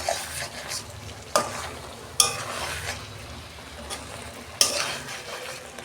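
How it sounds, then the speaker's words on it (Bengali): Stirring fish coated in coriander leaf paste in a pan, a soft continuous scraping and low sizzle broken by three or four sharper utensil knocks against the pan. "ধনে পাতার পেস্টটা দিয়ে আমি একটু নেড়ে নিচ্ছি ভালো করে।"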